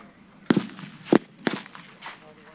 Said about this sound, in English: We also have a mortar with the Allied forces against the mortar with the Axis forces.